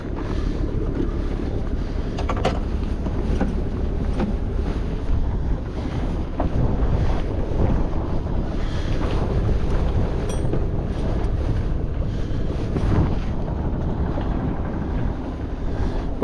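Steady wind roars across the microphone aboard a sailboat out on open water on a sunny November day, a constant broadband rush with faint water wash beneath, no voices.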